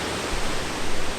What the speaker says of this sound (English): so this is High Falls.